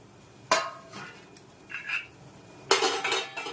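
Crushed fresh corn kernels being tipped into a cooking pot and stirred for a Gujarati chevda, giving two sharp metallic clanks of utensil on pot with softer scraping between them, close up and with no talking.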